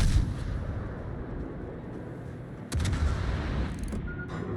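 Naval ship guns keep firing shells in a warship battle video game, a dense, continuous low rumble of booming shots with a sharper burst partway through, loud and steady throughout.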